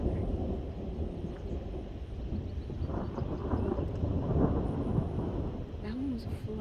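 Thunder from the first thunderstorm of the year rolls as a long, low rumble that swells and fades amid rain and wind noise, with faint voices nearby near the end.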